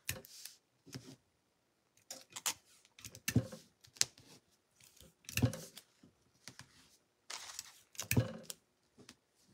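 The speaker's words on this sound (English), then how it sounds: "And I'm going to tape it down." Strips of tape are pulled, torn and pressed down to hold a sublimation design on a towel, giving a quiet run of separate ripping and tapping bursts with short pauses between them.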